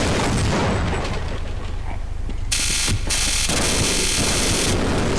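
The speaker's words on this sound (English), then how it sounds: "we could just try rocket launching this guy" In the Half-Life video game, a rocket launcher fires and explodes near a tank, with a loud sustained blast and mechanical grinding noise carrying on for several seconds.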